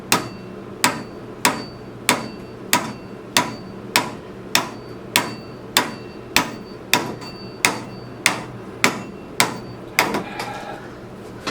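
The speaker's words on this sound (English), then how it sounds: "When in doubt, hammer it out." Hammer blows on the steering wheel of an Initial D Arcade Version 3 arcade machine, about eighteen sharp metallic strikes at a steady rhythm of roughly one per 0.6 seconds, near and loud, no talking.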